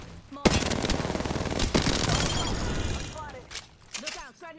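Rapid automatic fire from the Havoc energy rifle in the video game Apex Legends, a loud sustained burst of shots lasting a few seconds, with brief gaps, then fading into short clicks and tails near the end.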